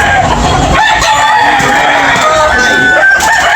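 A rooster crows amid loud, continuous clucking and crowing from many chickens at a busy poultry auction market in Tabunok, several calls overlapping close by.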